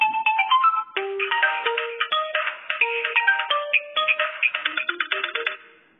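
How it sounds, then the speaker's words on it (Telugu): A mobile phone ringtone plays alone, a bright melodic tune of quick repeated notes running steadily for several seconds before fading out at the end. "ఇక్కడ రింగ్ టోన్ ఏదైతే ఉందో అది మన ఇష్టం అనమాట"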